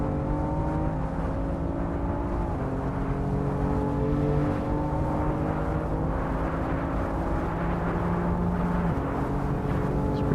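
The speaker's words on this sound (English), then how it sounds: "We are full throttle down the straight again." BMW M4 at full throttle on the Nürburgring, its engine a loud, steady, sustained drone with rising harmonic tones and constant wind and road roar, heard from inside the car without talk.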